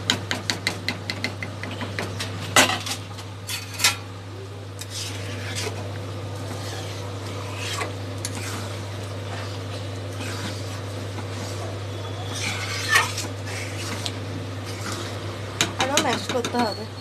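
Vegetables for pav bhaji being mashed in a pan, with irregular knocks and scrapes of a masher against metal over a steady low hum.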